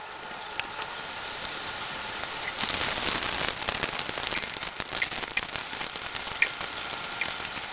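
Dal puris frying in oil on a hot tawa: a dense, hissing crackle that swells louder partway through and keeps bubbling steadily, close up with no voices.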